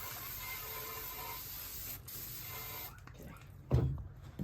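A steady hiss of aerosol engine degreaser sprayed onto a 1980 small-block 302 engine runs for a few seconds, then stops, followed by a brief thump and faint handling noises.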